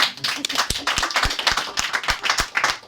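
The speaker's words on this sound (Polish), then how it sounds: "to są brawa w tym momencie zawsze" Audience at a ukulele orchestra performance clapping, a loose patter of hands with several distinct sharp claps standing out, moderately loud, over about three seconds without speech.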